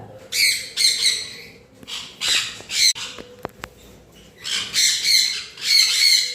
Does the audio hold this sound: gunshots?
no